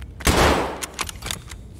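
A single loud gunshot from a rifle in the shooter game Escape From Tarkov cracks sharply near the start, then decays into a rumbling tail with faint clicks and thuds.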